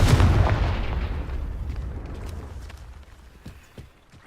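A Confringo fire-blast spell goes off in Hogwarts Legacy, opening with a deep, loud booming burst that rumbles and slowly fades, followed by a few faint scattered impacts and a small thump at the end.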